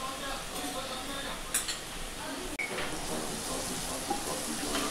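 Chili, coriander, garlic and ginger paste sautéing in a pan for dhaba-style masala bhindi, a steady broadband sizzle with a few sharp utensil clinks and scrapes against the pan.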